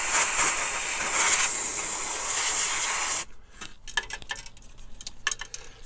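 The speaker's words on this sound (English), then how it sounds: "Cleaning out to do here from the airbrush." Airbrush being cleaned out, a loud continuous hiss of blown air for about three seconds, then abrupt silence followed by scattered light taps and clicks nearby.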